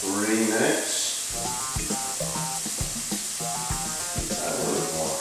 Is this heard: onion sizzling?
yes